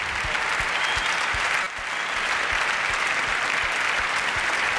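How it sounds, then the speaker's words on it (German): An audience applauds steadily at a memorial tribute event, with dense, sustained clapping from a large crowd and a brief dip partway through before it swells back to full strength. "Dieser Applaus gehört wirklich nur Ihnen."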